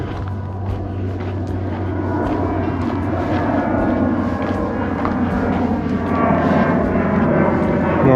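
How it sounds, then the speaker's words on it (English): Airplanes climb away after takeoff from a nearby airport heading northwest, a steady loud engine roar that rumbles on throughout with a broad, continuous wash. "Today the planes are taking off from the airport and heading northwest before they bank off"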